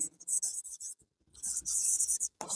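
Pen scratching across paper while accounting figures are written out by hand: close, loud bursts of scribbling broken by a short pause, then a longer continuous stretch of writing.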